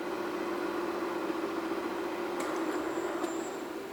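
The programmable spindle of a Southwestern Industries ProtoTRAK three-axis CNC vertical mill runs with a steady, even mechanical hum and a faint high whine. It holds constant throughout at moderate distance, with no talking.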